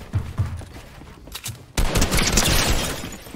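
Rapid bursts of gunfire crack out in Fortnite during a token wager match, loud and close, with a sustained spray of shots after a couple of earlier isolated pops.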